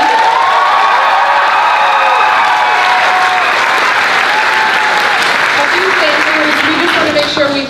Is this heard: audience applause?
yes